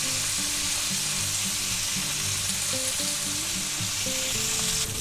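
Thick boneless pork chops fry in plenty of butter in a cast iron skillet, giving a steady, close, dense sizzle and crackle that holds evenly for the whole stretch with no voices.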